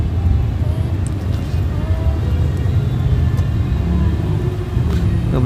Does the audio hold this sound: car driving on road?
yes